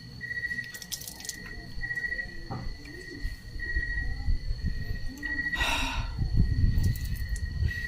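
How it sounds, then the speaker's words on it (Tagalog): Crickets chirp at night in a quiet rural spot, steady high-pitched trills repeating throughout, with faint low background rustle and a brief soft splash-like noise midway. "Kuliglig lang yung maririnig."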